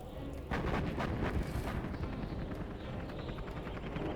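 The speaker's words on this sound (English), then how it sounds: "So I did the artillery on his barracks" Artillery shells pound an enemy barracks in the C&C Zero Hour strategy game, a faint rumbling barrage with a heavier thud early on and steady low booms after it.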